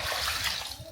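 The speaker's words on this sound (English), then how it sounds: "So I'm going to add clean water" Clean water is poured onto peeled beans being prepared for moi moi, giving a brief, close, steady splashing gush.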